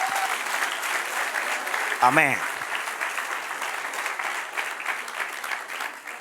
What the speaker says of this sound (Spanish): Den un aplauso a la soberanía.